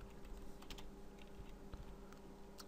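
Quiet typing on a computer keyboard, a few scattered keystrokes and short bursts over a low steady hum, no speech.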